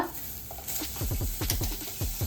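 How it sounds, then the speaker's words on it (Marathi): Chopped onion sizzles in hot oil with curry leaves as a tempering for Malvani ridge gourd bhaji, with a spoon scraping and stirring in quick repeated strokes over a steady low fry. "आणि कढीपत्तो हे एकत्र फोडणीत द्यायचं। आणि पहिलं हे भाजून घ्यायचं।"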